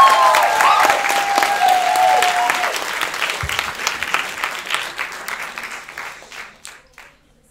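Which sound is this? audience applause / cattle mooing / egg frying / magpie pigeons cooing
audience applause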